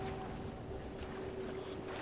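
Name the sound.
water and waves in video game Bioshock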